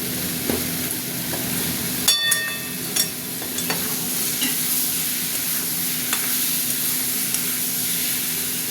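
Tomatoes cook in a pan with reserved water from boiled potatoes and tomatoes added, sizzling and hissing steadily while a utensil scrapes and knocks against the pan in scattered strokes.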